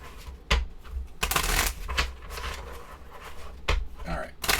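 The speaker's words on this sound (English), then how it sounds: "We're going to make sure this is completely shuffled too." A deck of Sentinels of the Multiverse Definitive Edition playing cards being shuffled by hand, with several sharp riffling bursts and softer card handling between them, under quiet talk.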